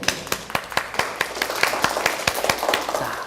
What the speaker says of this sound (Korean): 처음으로 하셨으니까 우리가 박수를 쳐드리고요